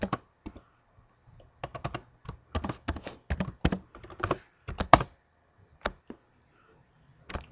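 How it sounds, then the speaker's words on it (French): Keys tapped on a computer keyboard while logging in to a SQL Azure database, heard as close, irregular bursts of clicks with short pauses between them and no talking. "Je tape mon mot de passe."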